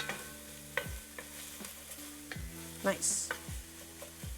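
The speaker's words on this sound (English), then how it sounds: "The potatoes are about to start sizzling again. They're about to start sauteing again." Potatoes sizzling and sautéing in an enamel pot with a spoon stirring them, quiet crackling frying under repeated scraping strokes at a steady pace, with one brief spoken word.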